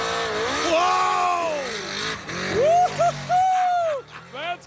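A drag-style race car revs its engine through a long wheel stand at a wheel-standing competition in Muncie, Indiana, its throttle rising, dipping and flaring again in quick bursts, loud and close, with a commentator's voice audible under it.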